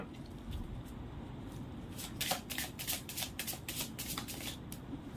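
Tarot cards shuffled close up in quick, soft riffling bursts over a low steady background hum, no voices.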